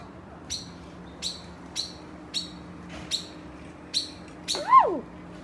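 A small bird at a luxury resort in Riviera Maya gives a steady series of sharp, evenly spaced chirps, about one per second, ending in a louder squawking call, all fairly faint over low background hum.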